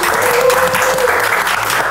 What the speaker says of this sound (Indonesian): kita minta tepuk tangan dulu